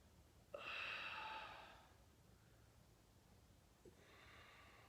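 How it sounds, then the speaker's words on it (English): Deep diaphragmatic breathing during a recovery session: a long, strong airy breath lasting over a second, then a fainter second breath a few seconds later, close and alone in a quiet room. "Diaphragmatically breathing, letting that tension"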